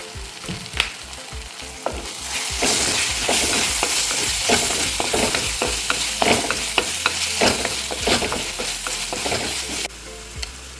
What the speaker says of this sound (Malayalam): ഇനി മുളകും എണ്ണ തെളിഞ്ഞ് വരുന്നത് വരെ ഒന്ന് വഴറ്റി കൊടുക്കാം.